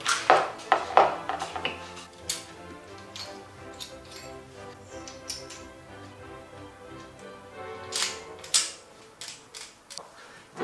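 A WE Glock 19 G-Force airsoft pistol is taken apart to swap its outer barrel, giving close, irregular metallic clicks, ticks and sliding clacks from the slide and parts, with no talking.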